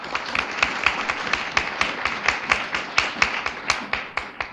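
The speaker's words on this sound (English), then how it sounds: "Round of applause, please." A small group at a press conference claps steadily for several seconds, with the individual hand claps sounding distinct and close in an irregular rhythm.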